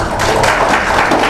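An audience at an APTISI Kaltim inauguration applauds, a loud, dense, continuous wash of clapping filling the whole moment.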